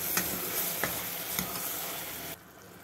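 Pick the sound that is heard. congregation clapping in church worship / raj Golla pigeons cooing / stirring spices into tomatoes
stirring spices into tomatoes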